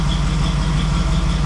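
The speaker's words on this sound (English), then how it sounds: "That seemed to idle it down, so that's good." A TBI-swapped Jeep CJ7 engine idles close up, a loud, steady low rumble with a regular pulsing beat and no voices over it.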